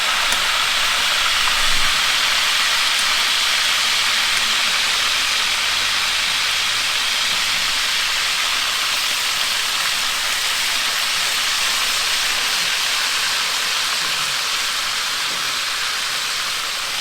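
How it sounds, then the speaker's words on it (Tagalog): Pork sizzles steadily in hot oil, a dense, continuous frying hiss that holds at an even level from start to finish with no talking over it. "Prito na natin tong baboy."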